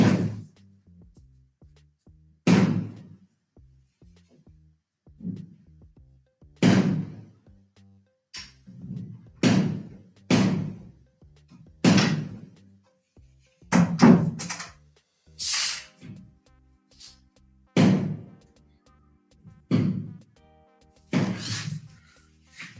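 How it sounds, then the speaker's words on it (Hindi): Firecrackers go off outside at a wedding, a series of sharp, muffled bangs at irregular intervals, each fading quickly, scattered across roughly twenty seconds against a quiet indoor background. "अरे बाहर भाई जहां शादी थी, आज वहां पटाखे चल रहे हैं।"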